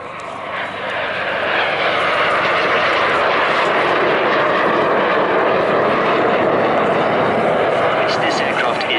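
A display aircraft at the Bournemouth Air Festival roars past with a loud, sustained engine rumble that swells in the first seconds and then holds steady, with a commentator's voice mixed in.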